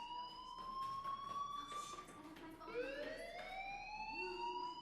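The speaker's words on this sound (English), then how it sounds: "Hey, do you hear that fire alarm?" A school fire alarm wails steadily in the Life is Strange video game, a continuous high electronic tone that holds, dips and rises again. It plays at moderate level over faint background murmur.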